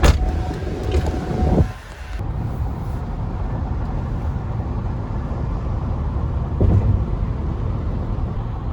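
A car on the road, a constant low rumble of engine and tyre noise with wind buffeting the microphone, steady and close throughout.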